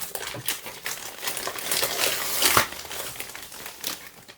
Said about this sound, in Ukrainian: Також все було загорнуто ось таку папирочку